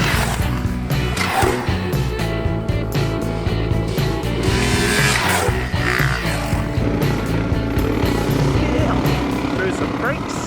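Dirt bikes ride side by side over desert tracks and creeks near the Kennedy Range in Western Australia, engines droning and revving continuously, loud and close, while someone talks over the top.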